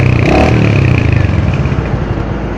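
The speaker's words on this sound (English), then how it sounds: "This is how it starts and how it revs. It is bassy and quite good compared to the 350cc motorcycle." A Royal Enfield Hunter 350 motorcycle engine revs loudly and close up, giving a deep, bassy, throbbing exhaust note that rises in a quick blip and then settles to a steady, pulsing idle.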